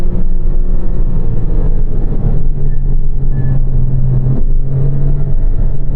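Mid-engine sports car, either a Porsche Cayman R or a Lotus Elise, heard from inside as the engine drones loud and steady with brief throttle swells, continuous for several seconds with no voices.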